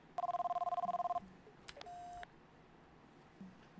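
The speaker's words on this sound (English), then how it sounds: "My phone's ringing." A telephone rings in The X-Files video game, a rapid trill of electronic rings followed by a couple of short beeps, clear and fairly loud over a quiet background.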